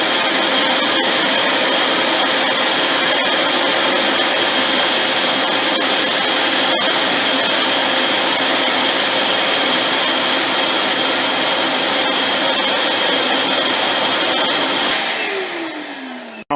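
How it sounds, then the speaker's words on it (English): A belt sander grinds steadily as it rounds off a metal part, a loud continuous abrasive whine that holds constant before winding down at the end. "we'll round it off on the belt sander"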